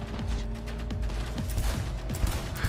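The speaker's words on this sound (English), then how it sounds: "That's a heavy hand cannon." Rapid heavy hand cannon gunfire in Cyberpunk 2077, repeated heavy shots and mechanical clanks layered over a dense, noisy background.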